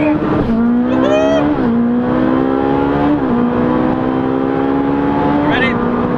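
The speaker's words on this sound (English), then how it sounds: "I'm just going to brake hard and hold in this down paddle here, and it's just going to downshift for me" Ferrari 458 Speciale engine held at a high, steady whine, with its pitch stepping sharply as the gearbox shifts several times in a row, loud and close throughout; a person talks over it.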